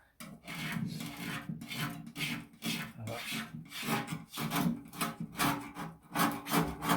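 A paint scraper dragged across a motorcycle fuel tank to strip paint and lacquer, in repeated rasping strokes about twice a second, close and fairly loud.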